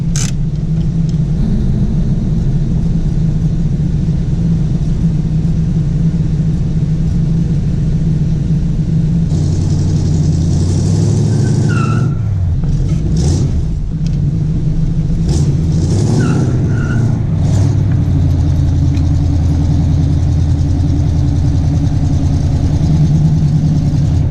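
A Jeep XJ engine drives up in four-wheel drive, a loud steady low rumble that holds throughout with brief shifts in pitch midway, nearby and without speech.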